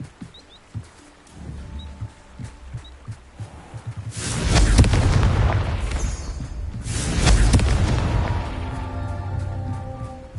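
Confringo explosive spells blast rocks apart in Hogwarts Legacy, two heavy booms a few seconds apart, each a sudden roaring burst that rumbles and fades, after quiet ticking and light clatter.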